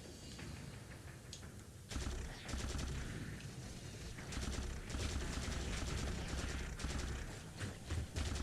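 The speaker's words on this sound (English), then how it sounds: "My trusty battle rifle." Sustained battle rifle gunfire from the Halo 4 video game, loud and dense, with rapid repeated bursts over a constant roar of game action and mechanical noise, no voices.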